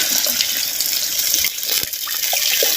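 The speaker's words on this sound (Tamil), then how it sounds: "நல்லா மட்டன் வேகிறதுக்கு 1 லிட்டர் பச்சை தண்ணி சேர்த்துக்கிறேன்." Water pours steadily for a few seconds into a pan of mutton that has been fried in oil, a continuous splashing, gushing flow heard close up with no talking.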